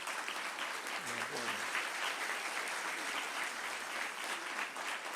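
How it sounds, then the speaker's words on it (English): An audience applauds a congressman at a policy event about Medicare, a steady, fairly quiet and distant wash of many hands clapping that runs through the whole stretch with a brief murmur of voices beneath. "let's give him a round of applause."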